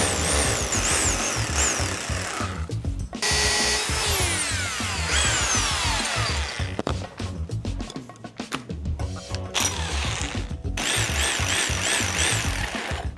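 A 20mm drill bores through a brick wall in loud, grinding bursts with brief pauses between them, close up and rough-edged, and whining pitch sweeps as the bit speeds and slows.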